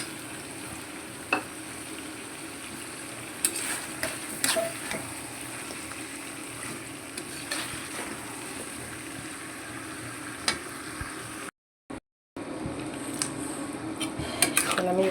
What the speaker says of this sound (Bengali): আমি একটু কষাতে দিলাম,